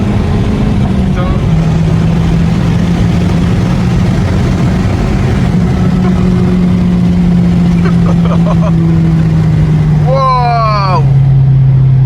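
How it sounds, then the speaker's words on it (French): A turbocharged Mazda 3 MPS accelerates hard with a loud, steady engine drone from inside the cabin, rising whoosh and whistle near the end as the turbo spools, with excited voices over it. "t'as le souffle du turbo qui vient derrière ton oreille là"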